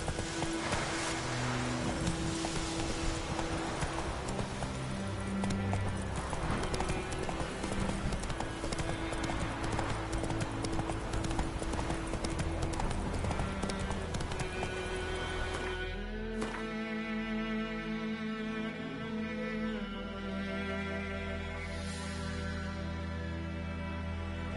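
Roach the horse gallops in The Witcher with a steady, rapid clip-clop of hooves. The hoofbeats sit under game music and a layered soundscape, and the mix shifts and thins toward the end.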